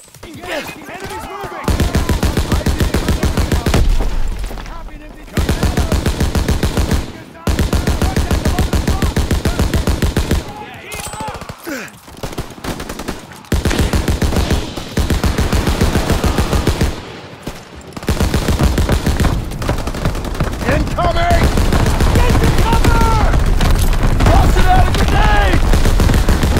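Machine guns in Call of Duty WW2 fire in long, loud rapid bursts with brief pauses, building into near-continuous automatic fire with shouted voices under the shooting.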